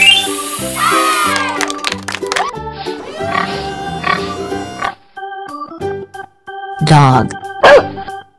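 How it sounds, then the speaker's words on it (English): A short run of dog barks amid a busy mix of other animal noises and music-like tones, loud and close. "Dog."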